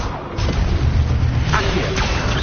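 Incendio fire spell cast in Hogwarts Legacy, a booming rumbling burst with whooshing swells, loud and close, over game sounds and a voice.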